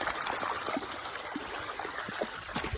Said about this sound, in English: Yeah, water.